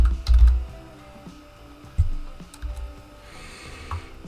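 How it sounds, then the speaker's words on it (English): Several quick key presses on a computer keyboard as a search word is typed, soft close clicks in short bursts with a couple of louder taps, no talking. "So I'm going to type in the word heel."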